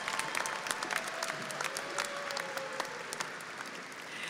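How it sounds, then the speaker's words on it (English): Audience applause at an Angelo State University fall commencement ceremony, a steady wash of many hands clapping throughout with a faint tone running beneath, moderately distant and unbroken for the whole stretch. "he still deserves a round of applause from everybody."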